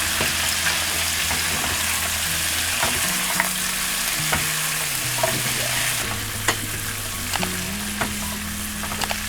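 Pork browning in a pan with onion and garlic added, a continuous close sizzle with stirring scrapes and clicks over a low hum.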